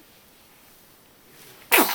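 A single sharp sneeze bursts out near and loud at the end, after nearly two seconds of quiet room tone.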